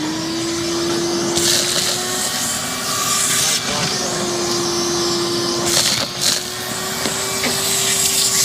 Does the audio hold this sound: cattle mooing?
no